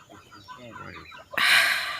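Chickens cluck softly in short, scattered calls on a poultry farm where birds are falling sick, before a sudden loud burst of broadband noise takes over near the end.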